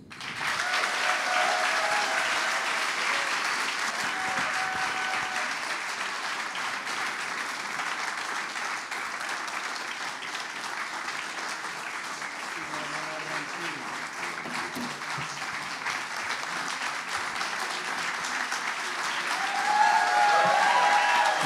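A studio audience gives a sustained round of applause for the evening's guest, an even wash of clapping that lasts over twenty seconds and swells slightly near the end.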